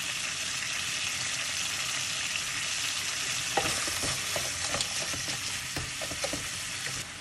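Prawn heads and shells sizzling hard in a hot pan with salt, a dense, constant crackle broken by sporadic sharp pops and light tapping as the shells are pressed down.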